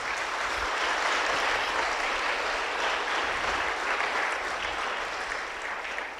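Church congregation claps together during a sermon on the cross, a sustained, fairly distant roll of many hands that stays even for several seconds before easing slightly at the end.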